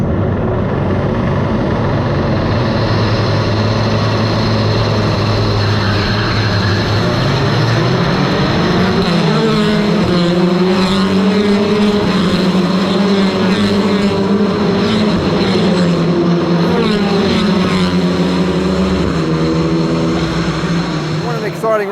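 TCR touring race cars sit on the starting grid at the Macau Grand Prix, their engines producing a loud, continuous rumble and drone that swells as revs rise midway. Voices talk over the engine noise.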